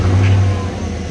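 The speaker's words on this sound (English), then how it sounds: "as the truck warms up here, it's starting to idle down now, as you can see and hear" A 2014-or-later Chevrolet Silverado with an aFe Momentum GT Pro Dry S intake idles while warming up, giving a steady, loud, low engine rumble close by.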